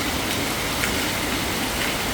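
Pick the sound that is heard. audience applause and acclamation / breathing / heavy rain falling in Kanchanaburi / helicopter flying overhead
heavy rain falling in Kanchanaburi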